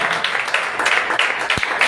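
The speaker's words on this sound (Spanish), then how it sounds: "Denle una ofrenda de aplauso al Señor" Church congregation applauding as an offering to the Lord, dense steady clapping from many hands filling the room, with a brief low thump near the end.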